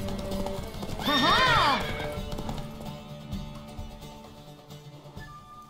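Horse galloping and whinnying in The Witcher 3 video game, a loud neigh rising over rapid hoof clip-clop that continues through the clip, with background game music.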